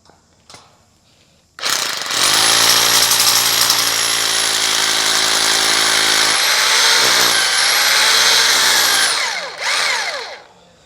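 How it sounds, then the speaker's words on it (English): A loud hammer drill with a masonry bit grinds continuously into a concrete slab for about eight seconds with a strong buzzing rattle, briefly shifting pitch midway before stopping, then a short burst follows. "Now we use a hammer drill with a masonry bit."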